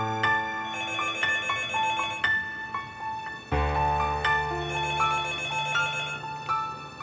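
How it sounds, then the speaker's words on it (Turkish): A telephone rings repeatedly in an indoor scene, its tonal electronic ring pulsing in a steady rhythm over low background music, with no talk. "Telefon hala çalıyor."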